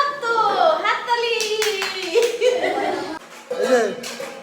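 Family members at home clap their hands briefly amid chatter and chuckles, with voices talking over the scattered, close claps.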